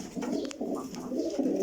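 Pigeons cooing close by at a breeder's loft in Jhelum, soft throaty rolling coos overlapping in a continuous murmur, fairly quiet.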